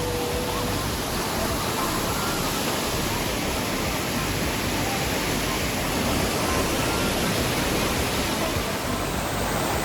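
Awao Falls pours in a steady, broadband roar of falling water, close and continuous for the whole stretch, with no talk over it.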